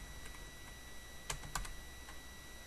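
Network router commands being entered on a computer keyboard produce a short run of quiet, sparse key clicks, with two slightly sharper taps in the middle against a faint steady hum.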